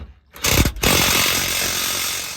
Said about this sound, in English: If the impact gun is not strong enough to break the bolt loose